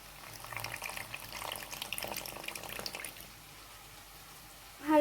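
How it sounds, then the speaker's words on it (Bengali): Water splashes and trickles into a pot of mung dal cooking with a fish head, a soft pour of a few seconds that fades out, followed by a brief clatter at the end. "এবার জল দিয়ে দিচ্ছি।"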